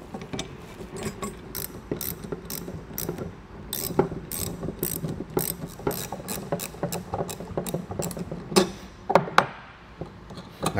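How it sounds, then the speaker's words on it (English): A socket wrench ratchets to tighten a Rhino-Rack Pioneer Platform roof rack bracket, giving repeated bursts of quick metallic clicks with small knocks in between, heard up close with no speech. "So we'll come back with our wrench and our socket."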